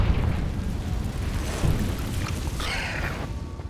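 A Confringo fire spell bursts in Hogwarts Legacy with a heavy, rumbling blast. Booming crackle and roar carry on close and loud for several seconds.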